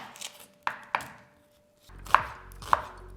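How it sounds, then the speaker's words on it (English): A knife chops an onion on a cutting board in a few sharp, close knocks, two quick cuts and then two more after a short pause, with no talking. "So let me first start by chopping up this onion."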